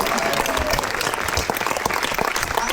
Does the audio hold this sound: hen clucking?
no